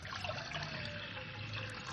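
Water poured into a saucepan, a steady close splashing and trickling that continues evenly throughout without any voices.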